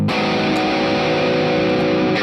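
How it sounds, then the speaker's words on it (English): Electric guitar played through an overdriven Marshall amp model on a Sonicake Matribox II multi-effects unit, with a fuzzy, gritty tone and sustained distorted chords ringing loud and steady. "right now what you're hearing is the Marshall with a fuzzy kind of overdrive"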